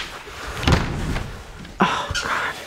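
A miniature horse pushes and bangs against a door, giving two distinct thumping impacts, the second sharper, with faint movement between them.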